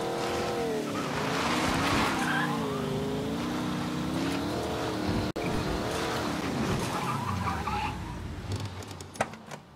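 A car in the Mafia 3 game pulls over with a long, loud tire skid and a squealing whine over steady engine roar. A sharp click cuts through midway, and the sound eases off near the end.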